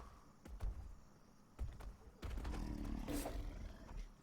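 A big cat in the Atlas video game lets out a loud roar, preceded by a few heavy thumps, with a sustained growling roar in the second half over faint ambient game noise.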